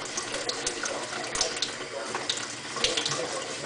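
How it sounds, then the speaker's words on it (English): Water splashing and running over car tail lights during wet sanding, a steady wet hiss with a few louder splashes, close by, with no talking. "You know, sprinkle some water on there."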